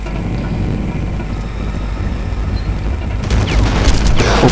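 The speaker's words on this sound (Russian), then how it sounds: "откуда-то идет стрельба, и не поймешь откуда" Steady rumbling background with bursts of rapid gunfire in the video game Far Cry in the last second or so, sharp and fairly loud.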